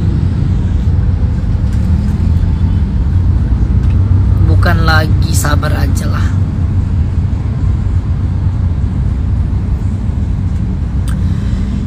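Cars in a traffic jam give a loud, steady roadway rumble close by, while people talk over it.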